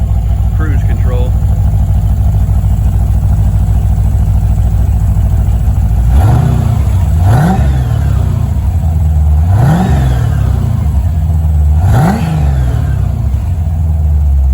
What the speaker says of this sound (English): So Brent's revving it up for me here off the cruise control.